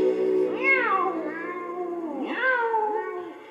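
Sung cat meows in a children's song, a voice imitating a cat with two long, wavering meows over the music.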